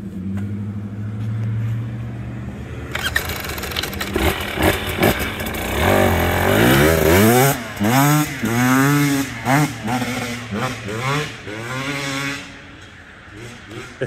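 A 2023 GasGas 250EC dirt bike idles close by, then revs hard and rides off, its engine rising and falling in pitch as it climbs a hill and fades. People talk over the start.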